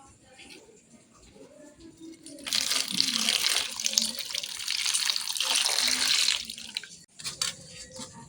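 Foraged wild greens being washed under running water, a steady broadband gush of water splashing for about four seconds mid-clip, with quieter handling noises before and after.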